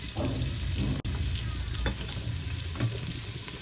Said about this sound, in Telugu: కొంచెం నూనె ఉల్లిగడ్డలు వేసుకుంటున్నాం పచ్చిమిర్చి ఒక రెండు చిన్న సైజ్